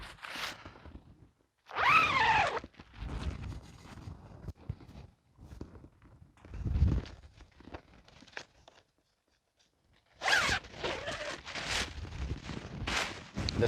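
Zipper closing on a Durston X-Mid Pro 1 tent, heard as short rasping zips and rustling fabric at close range, with pauses between bursts.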